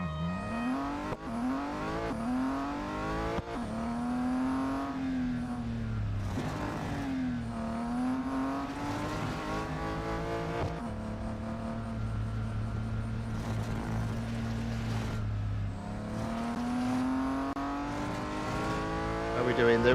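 Race car engine in Real Racing 3 at Laguna Seca, droning steadily with rising and falling pitch sweeps as it revs through gears, with occasional tire squeal, loud and continuous throughout while a person talks over it.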